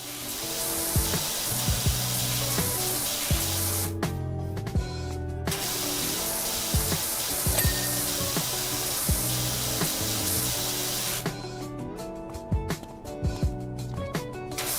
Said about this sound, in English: Left mouse button to use the washer here. Let's get the wheels first.